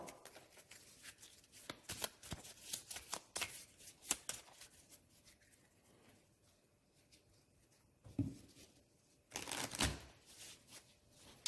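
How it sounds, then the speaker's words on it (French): Dune Imperium board game cards being shuffled by hand, close and crisp riffling bursts, with a quieter lull before two final louder shuffles. "Allez, on va remélanger ça."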